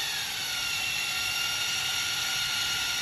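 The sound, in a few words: AXXAIR pipe and tube saw motor speeding up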